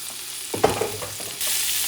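Shrimp frying in coconut oil in a pan, a steady sizzle with a few sharp stirring clinks near the middle and the sizzle swelling louder toward the end; no talking.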